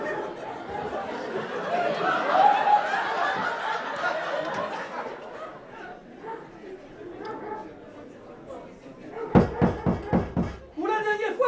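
Knocking on a door during an amateur stage play: a quick run of five or six sharp, close raps comes near the end, after a long stretch of talking, audience chatter and laughter.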